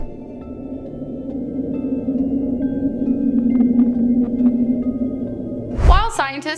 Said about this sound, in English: The Julia was a noise recorded on March 1st of 1999 by the United States National